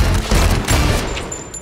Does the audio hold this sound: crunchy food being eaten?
no